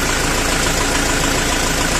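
A turbocharged diesel engine of a 5504K vehicle, rated around 50 horsepower, idles steadily and loudly, a constant rough rumble with a faint rhythmic knock and no voices.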